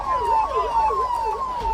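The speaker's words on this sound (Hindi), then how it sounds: "नोएडा में भी सायरन बजाकर ब्लैकआउट हुआ," A wailing emergency siren sounds loud and continuous during a blackout mock drill in Noida, its pitch sweeping up and down in a steady repeating cycle with a second steady tone above it.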